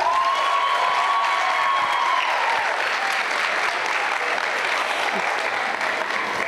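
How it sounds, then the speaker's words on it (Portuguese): A loud audience applauds and cheers at a Brazilian cinema-themed catwalk show, sustained dense clapping with a bright tone or whistle early on and crowd voices mixed in. "Uma salva de palmas para Enzo Ignacio!"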